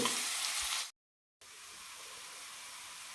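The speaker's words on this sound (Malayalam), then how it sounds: "ഇനി ഇതിലേക്ക് താളിച്ചിടാം കടുക് കറിവേപ്പില സവാള വെളുത്തുള്ളിയാണ് ഇട്ടിരിക്കുന്നത് നന്നായി വഴറ്റിയെടുക്കാം" Mustard seeds, curry leaves, onion and garlic sauté in a hot pan for a vegetable koottu curry, giving a steady, close, hissing sizzle that cuts out briefly to silence and then resumes just as strongly.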